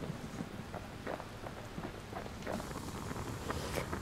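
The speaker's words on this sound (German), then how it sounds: "Eben hat es aber noch nicht geregnet, oder?" Steady, quiet rain patters and crackles in the video game Bastion, a continuous soft wash with scattered droplet taps throughout and no voices.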